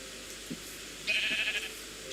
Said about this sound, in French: c'est que des moutons